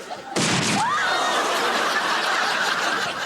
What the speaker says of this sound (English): A gentle firework display for the kids.